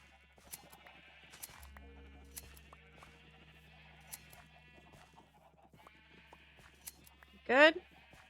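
A single sheep gives one short, wavering bleat near the end of a quiet stretch of Minecraft-style play, preceded by soft background game tones and faint clicks.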